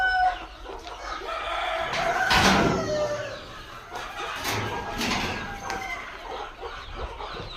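Free-range native country chickens at a poultry farm cluck busily near and far, with a rooster crowing loudly early on, while young chicks are fed chopped tomato pieces.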